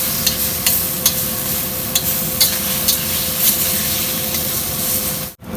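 Smashed bottle gourd frying in a kadai, a loud steady sizzle broken by regular scraping stirs of the spatula, ending with a sudden cutoff.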